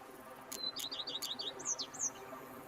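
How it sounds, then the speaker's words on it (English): Birds chirping in The Witcher 3 game world, a quick series of short, high tweets followed by a couple of longer whistled calls, fairly clear over a soft ambient background. "Bees buzzing, birds chirping."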